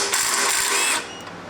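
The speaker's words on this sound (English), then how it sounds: "let's pull the 4 head bolts off" A ratchet wrench loosening a head bolt on an old abandoned go-kart engine, a quick burst of close, dry clicking for about a second before it stops.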